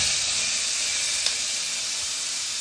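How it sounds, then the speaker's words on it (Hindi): A pan on the stove hisses with a steady, even frying sizzle throughout, with one small tap midway and no voices. "यहाँ पर मैंने ये चढ़ा दिया है, क्योंकि मैं अब ये फ्राई करूंगी"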